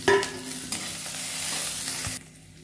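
Finely chopped ginger and green chili sizzle loudly in hot oil in a pan, with a stirring scrape near the start and a steady frying hiss that drops off sharply near the end.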